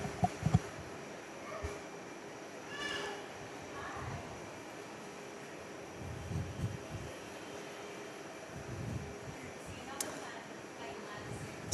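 An Embraer E2 jet on the Velocity service taxis at Perth Airport, giving a steady, distant engine hum and whine under constant background noise, with people talking near the microphone.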